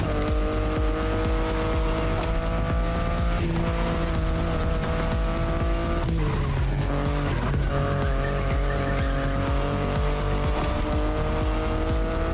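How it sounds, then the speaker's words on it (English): A BMW i8 sports car in The Crew Motorfest racing game holds a steady, loud engine drone throughout, with pitch shifts as it changes gear and faint tire squeal, no voices. "The BMW i8 is a car that stands out from the crowds."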